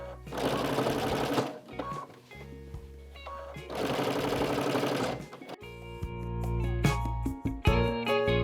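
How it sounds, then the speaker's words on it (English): A sewing machine stitches across pins while joining quilt-as-you-go blocks, running in loud bursts of rapid mechanical whirring with short pauses between them, close up and with no talk. "very carefully sew across the pins, or slide them out before you get to them"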